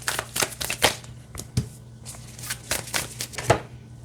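A deck of Disney Alice in Wonderland tarot cards is shuffled by hand, giving soft repeated riffling and tapping bursts in an uneven rhythm, close and quiet.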